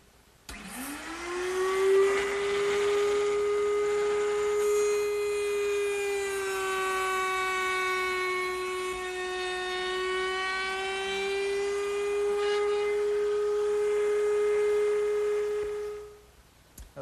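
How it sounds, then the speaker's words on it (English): A router table motor with a pilot-bearing bit, fence removed, rounds over the edge of a curved wooden cupboard arch: a loud, steady high whine that spins up quickly, holds for about fifteen seconds with slight wavering under load, then cuts off. "I just used the router table, but I've removed the fence and I'll use the pilot bearing as a guide"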